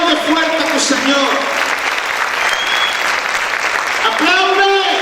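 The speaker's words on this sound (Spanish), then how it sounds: "Aplaude fuerte a tu Señor." Sustained loud applause from a church congregation, a continuous wash of many hands clapping, while a preacher's voice rises over it briefly at the beginning and the end.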